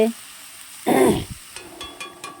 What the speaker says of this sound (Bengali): এই যে এবার এটা আমি পুরো তেলের ওপরে দেবো